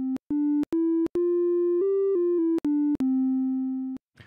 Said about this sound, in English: So that is the sine wave.